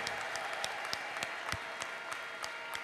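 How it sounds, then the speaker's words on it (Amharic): Church congregation clapping steadily with sharp individual claps throughout, a dense crowd of applause; ululation is not clearly distinguishable in the mix. "ለኢየሱስ ክርስቶስ ክብርና እልልታ ስጡ"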